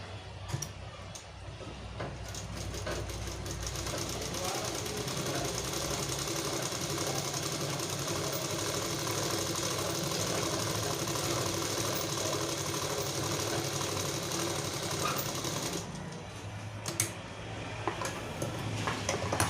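A sewing machine runs steadily in a beginners' tailoring class, stitching fabric in a long continuous whir with a fine ticking rhythm, loud and close, easing off near the end.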